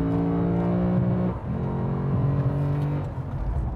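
A Lexus RC F Track Edition V8 revs loudly and steadily on a race track, briefly hitting the limiter before two quick upshifts at about 1.4 and 3.1 seconds drop the pitch, with the engine staying close and continuous throughout.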